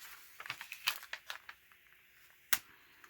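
Paper laid under glitter-covered wooden ornament craft work crinkles softly in a few short, quiet bursts, followed by one sharper rustle near the end.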